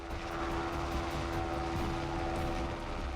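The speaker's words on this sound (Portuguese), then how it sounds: "Aqui o helicóptero está se aproximando para tentar uma manobra de bloqueio do barco." A Seahawk helicopter roars steadily and loudly with a broad rotor and engine drone as it closes in on a boat at sea during a rescue off Somalia.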